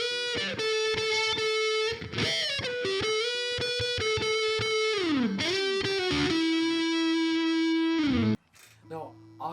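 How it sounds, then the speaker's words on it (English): A distorted Silver Sky electric guitar in Lunar Ice finish plays a lead line of quick picked notes and sustained bends, loud and up close, ending with a short muted fade. "if we try out this tone with some lead guitar, it still does an amazing job"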